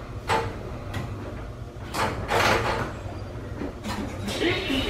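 Sliding doors on a JR Hakubi Line train run between Okayama and Niimi, thudding open and shut in a few bursts over steady cabin rumble, with a recorded announcement playing over them.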